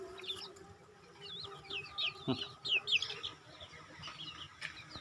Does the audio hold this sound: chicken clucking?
yes